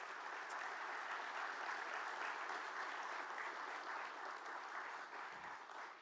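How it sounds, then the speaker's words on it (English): Audience at a preservation awards ceremony breaks into sustained, even applause, a dense wash of many hands clapping that tapers slightly toward the end. "Would you give them a round of applause"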